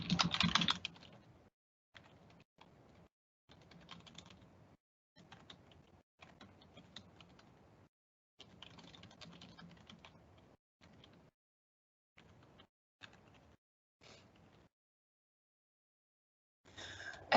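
Computer keyboard typing while personal details are entered into an online enrollment form, heard as bursts of quiet key clicks with short pauses between them, no talking.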